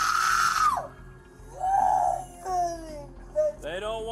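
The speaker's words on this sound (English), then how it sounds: "Stop screaming." A woman screams loudly and repeatedly during a heated police confrontation, with long high-pitched wailing cries broken by short pauses, close to the listener.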